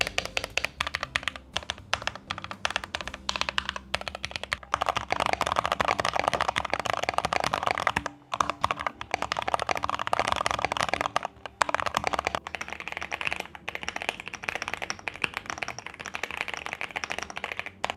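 Fast, steady typing on a mechanical keyboard fills the recording, a dense run of crisp clicky keystrokes that stays close and fairly loud, with only brief pauses between bursts.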